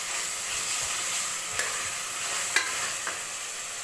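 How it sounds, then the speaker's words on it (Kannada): Ginger garlic paste sizzles steadily as it fries in a pan, with a few soft scrapes and knocks from stirring. "ಹಾಗೆ ಶುಂಠಿ ಬೆಳ್ಳುಳ್ಳಿ ಪೇಸ್ಟ್ ಹಾಕಿದ ಮೇಲೆ ಸ್ವಲ್ಪ ಮಿಕ್ಸ್ ಮಾಡ್ಕೋಬೇಕು."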